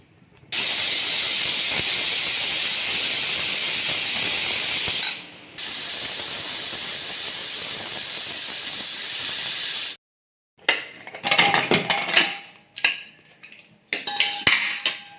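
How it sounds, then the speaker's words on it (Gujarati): A pressure cooker full of spicy Kathiyawadi khichdi lets out a loud, steady steam whistle that runs for several seconds, breaks briefly, resumes, then cuts off before sputtering hisses and releases of steam follow in uneven bursts. "હવે ઢાંકણ બંધ કરી અને 4 થી 5 સીટી વગાડી લઈએ।"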